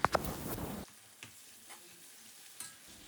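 Cashews, raisins and onions sizzle in hot oil while being stirred, a few scraping clinks at the start, then a quieter simmering crackle.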